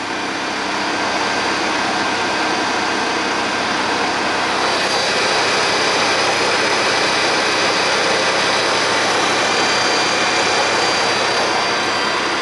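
Washing machine with a wrap drive spinning at about 2000 RPM, a loud, steady broadband whirring roar with a constant high whine, sustained without a break and no voices.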